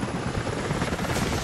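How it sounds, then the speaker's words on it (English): Helicopter rotor chop thrumming steadily in the Rise of the Tomb Raider video game, a dense continuous drone with rhythmic low beats and a hissing top, loud and constant throughout with no talk. "helicopters are headed your way."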